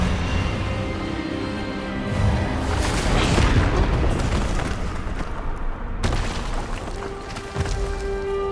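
A booming magical blast in Hogwarts Legacy, the Expelliarmus disarming spell, arriving as a loud rumbling surge with crashing impacts that swell midway and trail off into a lingering roar, no talk heard.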